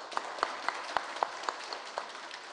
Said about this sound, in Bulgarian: Моля вашите аплодисменти за тях.